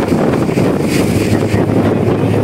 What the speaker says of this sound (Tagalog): Ay malakas ang hangin at saka alon.